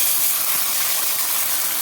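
Spice masala hits hot oil with fried onions in a pan for masala brinjal, giving a loud, steady, close sizzle that hisses without a break.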